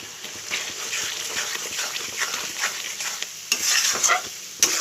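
Spices with Kashmiri chili powder sautéing in oil for a bhetki fish and Malabar spinach chachchori, a sizzling fry under repeated stirring scrapes and spoon knocks, louder toward the end, with no speech.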